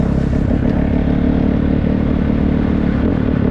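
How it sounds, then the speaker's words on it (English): A 2025 Gas Gas MC450 Factory Edition dirt bike with an FMF slip-on exhaust runs loud and close, giving a steady, rough engine roar with rattling clatter throughout. "Usually, they're kind of a smoother engine, Gas Gas is. But this one's actually snappy."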